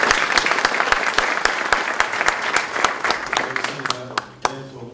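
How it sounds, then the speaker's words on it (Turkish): An audience at the Ankara start-up summit applauds warmly, a dense burst of clapping that holds steady and then thins out to scattered claps near the end, with a voice speaking faintly underneath. "Valla Ozan'ı tekrar bir alkışlayalım."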